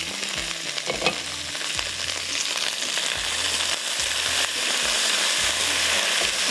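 Pieces of fish fry in hot oil for a spicy fish curry, a loud, constant sizzle and crackle close up, with faint clinks from a utensil and no talking.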